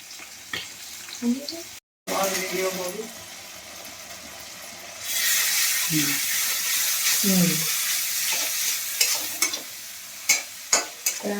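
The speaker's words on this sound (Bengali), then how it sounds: "মশলাটা ভেজে নিলাম, আদা দিয়ে দিলাম, জিরে দিয়ে দিলাম, দিয়ে মশলাটা ভেজে নিচ্ছি।" Spices with capsicum, ginger and cumin fry in a pan, a loud hiss rising midway, with spatula scrapes and stirring knocks near the end and a brief break in sound early on.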